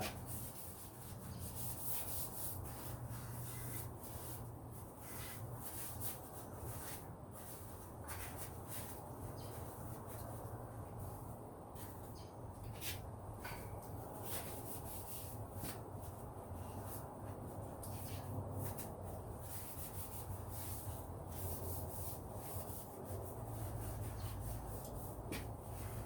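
Air tool cleaning the frame of a 1973 Moto Guzzi Eldorado motorcycle, with a compressor-fed scrubbing, sanding-like hiss running steadily and fairly loud for the whole stretch without pauses.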